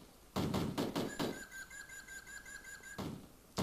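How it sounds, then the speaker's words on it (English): Birds in Cannon Fodder, a string of sharp, high chirps and warbles with thumping gunfire bursts at the start and end, fairly close and a little tinny. "I don't remember the birds being so annoying"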